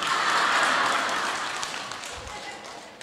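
Sustained crowd applause at a temple gathering, a broad, even roar of many clapping hands that slowly fades a little toward the end, with a voice faintly beneath it.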